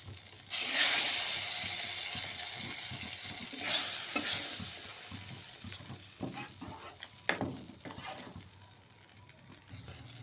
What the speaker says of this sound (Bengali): দেখো, এখানে মশলাটা দিয়ে আমি ঘেঁটে দিয়েছি।